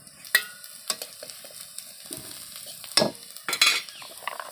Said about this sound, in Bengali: পেঁয়াজগুলো লাল হয়ে ভাজা হয়ে গেছে